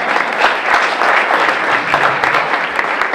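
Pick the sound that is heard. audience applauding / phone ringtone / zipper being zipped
audience applauding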